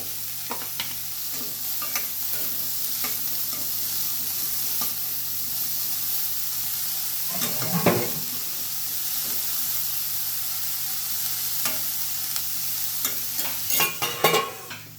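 Pieces seasoned with turmeric and salt sizzle steadily in a pan, with occasional scraping stirs and clinks of a utensil, close and continuous.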